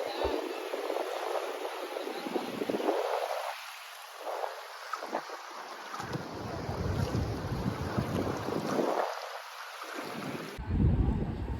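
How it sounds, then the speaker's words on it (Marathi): Calm sea waves wash in at Aksa Beach in Mumbai with a broad rushing surge that swells and recedes, mixed with gusty wind buffeting the microphone. "शांत लाटांचा आवाज एवढा भारी आहे"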